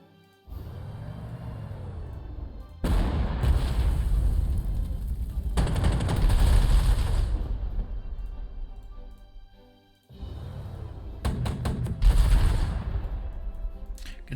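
Artillery fire in the Panzer Corps 2 wargame sounds as heavy booming blasts with long rumbling rolls, arriving in several loud waves separated by short quiet gaps, with no talk.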